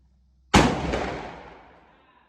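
A single sharp, loud rifle shot from a Siamese Mauser R.S. 121 at an outdoor range, close by, with a long fading rumble trailing off afterward.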